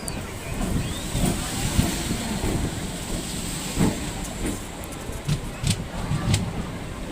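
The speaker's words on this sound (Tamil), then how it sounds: "நமக்கு பக்கத்தில் ஒரு ட்ரெயின் பாருங்கள் போய்கிட்டே இருக்கு" Continuous rumble of a Chennai local train rolling past close by, with clattering wheel knocks and occasional metallic squeals over the steady roar.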